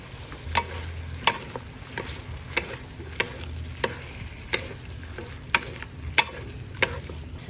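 Smoked sausages fry with cooked potatoes in a pan, a steady sizzle broken by regular sharp scrapes and clicks of a utensil stirring about every half second, close and alone.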